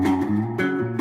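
A short soulful electric guitar figure of a few chord changes, clearly played and sustained, with no talking.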